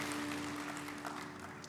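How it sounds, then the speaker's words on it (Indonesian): A church congregation applauds during a sermon, the clapping faint and distant, a short steady patter over a low hum. "Berikan tepuk tangan yang meriah untuk Tuhan kita."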